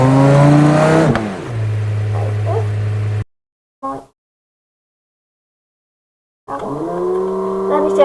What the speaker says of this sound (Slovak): Aby ste mohli počuť auto, bo to je strašný zvuk.